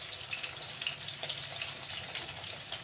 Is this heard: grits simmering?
yes